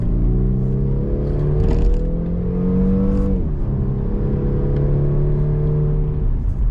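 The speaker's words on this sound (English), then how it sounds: "You guys just heard me accelerate up this hill. You can hear the engine going. You can hear the exhaust making its noises." A 2021 Volvo S60 R-Design, Polestar tuned, pulls uphill with its engine droning steadily and the exhaust rising in pitch, briefly dipping as it shifts and then climbing again, heard up close from inside with no talk.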